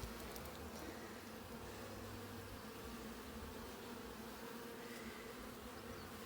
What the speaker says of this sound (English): These are quite stripy bees.